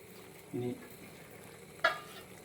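Prawn curry masala fries in a pan while being stirred, a faint low sizzle with two short scraping bursts from the spoon.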